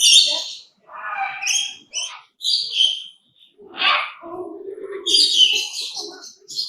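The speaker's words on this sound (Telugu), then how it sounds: "మంచి మంచి బర్డ్స్ ఉన్నాయి" Loud, close bird calls at Batu Caves, Malaysia, in a series of squawks and chirps, with shrill high cries and lower coos overlapping, separated by short pauses.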